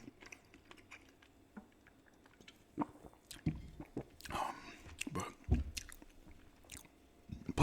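Gum chewing up close, with soft wet smacks and clicks that come irregularly and grow busier toward the end, quiet and with no talking.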